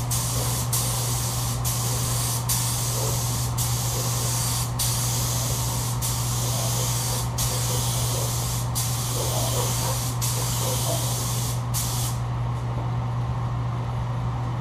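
Spray paint is applied in light coats for hydro dipping, a loud steady close-up hiss that runs almost unbroken over a low hum, with faint regular ticks, then cuts off near the end.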